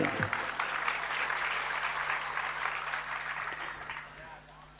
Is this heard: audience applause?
yes